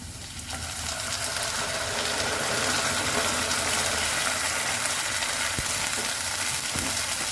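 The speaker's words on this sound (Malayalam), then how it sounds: "ഇനി നമുക്ക് അരച്ചു വെച്ചിരിക്കുന്ന തക്കാളിയും പച്ചമുളകും ഇഞ്ചിയും കൂടി ഈ ഉള്ളിയിലേക്ക് ഇട്ട് കൊടുക്കാം." Ground tomato, green chili and ginger paste sizzling as it goes into frying onions for a Kerala paneer vegetable kurma, with a steady close hiss throughout, faint stirring and no talk.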